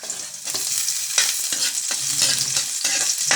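Ginger and garlic frying in a pan, with a steady close sizzle broken by repeated scraping strokes of a spatula stirring them, loud and continuous with no talking.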